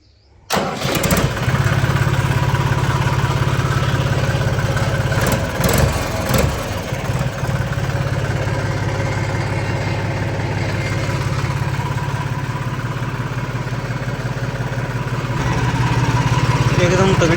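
A Massey Ferguson 245 DI tractor with a changed silencer starts up, then settles into a loud, steady diesel idle with a deep rumbling chug close by, swelling slightly toward the end.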